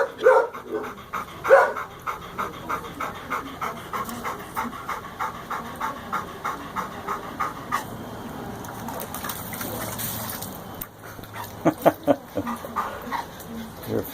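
A dog pants in steady rapid rhythm up close after splashing in a garden bird bath, with a brief rushing noise in the middle and occasional louder huffs, heard alone.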